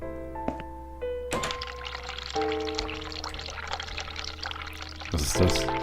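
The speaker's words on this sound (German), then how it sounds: "Und dann machen wir ein bisschen heißes Wasser an." Hot water pouring from a hospital washbasin tap in The Cat Lady, a continuous splashing rush that switches on suddenly and runs loudly over sustained game music tones, with a brief clunk near the end.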